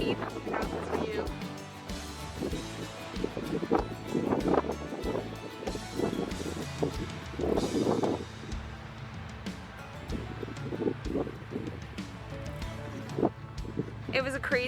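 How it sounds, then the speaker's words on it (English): Strong wind on a mountain buffeting the microphone in gusty rumbles, with a steady roar of air and occasional louder blasts throughout. "And it's really ridiculously windy."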